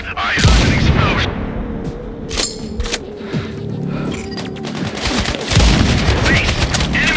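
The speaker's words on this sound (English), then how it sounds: "I hear shots." Gunshots crack repeatedly in the video game Sniper Ghost Warrior Contracts 2, with sharp, loud reports over a continuous rumble of battle and rolling echoes across the whole stretch.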